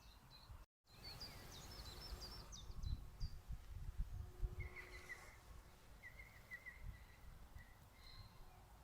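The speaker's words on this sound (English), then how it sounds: "We're listening to the birds singing," Birds sing in woodland with a burst of high chirps early on, then thin, repeated calls further off, all fairly faint over a low rustling background.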